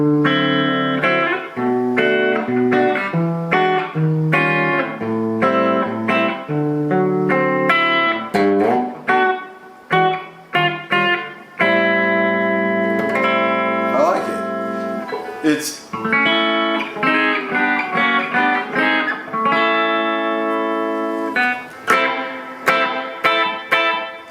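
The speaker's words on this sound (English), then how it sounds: "so we're talking about a reverb again here, a rather long, really crisp high-end tone to it, pre-delay" Electric guitar played through a ToneCity one-knob mini reverb pedal, loud close chords and single notes with distorted tone and long crisp reverb tails, pauses between phrases.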